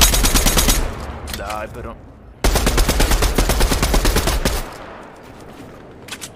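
Rapid automatic gunfire in the Fortnite battle royale video game, two loud bursts of dense rattling shots separated by a brief pause, with a player talking over it and fading game ambience after.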